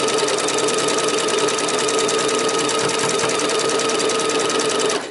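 A sewing machine runs a zigzag stitch along the elastic edge of a summer dress, with a fast, steady mechanical chatter held at an even level close up that cuts off at the end.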